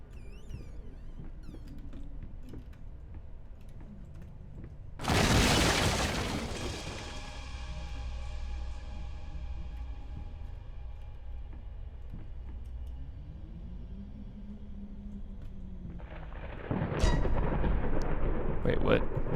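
Two heavy thunder crashes with lightning in the horror game Layers of Fear, the first a loud sudden boom that rolls away slowly over a low rumble, the second striking near the end, with a faint voice between them.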